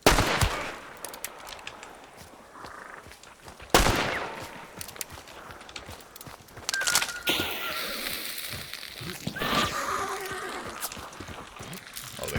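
Gunfire in Hunt: Showdown, set in 1896, including muffled silenced shots, sharp reports and crackling bursts scattered across a noisy game soundscape, with no talk.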